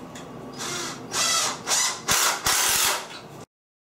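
Power drill driving screws that fasten a sliding glass shower door guide to the floor, a few short whirring bursts with ratcheting clicks, close and moderately loud, then sudden silence.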